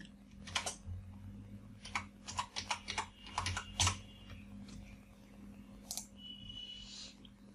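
A search term is typed on a computer keyboard, quiet close key clicks coming in short irregular bursts with pauses between them, over a low steady hum.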